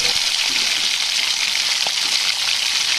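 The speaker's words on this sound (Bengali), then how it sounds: "প্রথমে তেল গরম করে তার মধ্যে অল্প একটু নুন দিয়ে পনিরগুলোকে হালকা ভেজে তুলে নেব" Paneer frying in hot oil, a steady loud sizzle with crackling, close up and continuous throughout, no voices.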